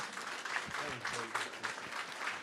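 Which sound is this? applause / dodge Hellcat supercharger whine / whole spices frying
applause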